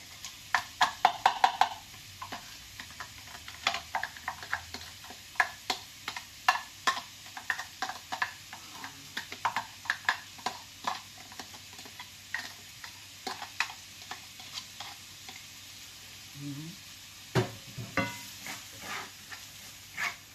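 Onion and garlic frying in a wok for a chicken dish with string beans, jute leaves and coconut milk: a soft steady sizzle under frequent sharp ticks and scrapes of stirring, with a few faint clinks.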